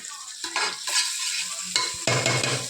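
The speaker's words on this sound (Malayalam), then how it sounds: "ഇന്ത സൈഡിൽ മീൻ വറുക്കാം" Hot oil sizzles and spits in loud bursts as fish fries in a pan, with short pauses between the crackling surges and a scrape of stirring.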